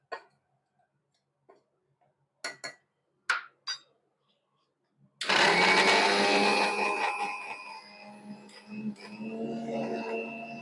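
A mixer grinder whirs loudly, grinding buttermilk masala spices with salt, starting abruptly after a few scattered clinks and taps and running steadily to the end.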